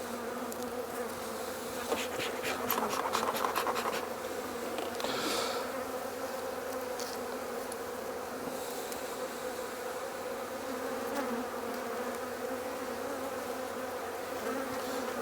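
A honeybee colony opened for a winter inspection, queenless and without brood, fills the air with a steady, dense buzz, up close and alone, with a few louder passes of single bees near the start.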